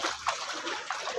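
Water splashes and trickles as feet are washed outdoors on a rainy day, a continuous close, soft wash of splatter with a few brighter splashes and no talk.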